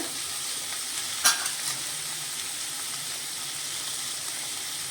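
Spices are stirred in a pan for Bhogichi bhaji, the mixed vegetable dish made for Bhogi at Sankranti, under a faint, even sizzle. One sharp clink of a utensil against the pan stands out early on.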